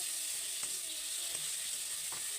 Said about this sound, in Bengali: ভালো করে নাড়িয়ে ছাড়িয়ে নেব।